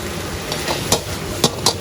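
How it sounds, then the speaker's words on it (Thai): A chef stir-fries pre-fried fish with rice in a hot wok, tossing the pan; soft sizzling runs throughout, punctuated by a few sharp scraping clinks of the spatula against the metal at irregular intervals. "มีการกระดกกระทะมาหน่อยนะเพื่อที่จะให้ความร้อนในกระจายอยู่ทั่วถึงรวมทั้งรสชาติ"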